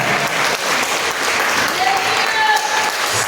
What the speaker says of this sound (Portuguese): Agora eu convido a igreja a dar a mais forte salva de palmas ao Senhor Jesus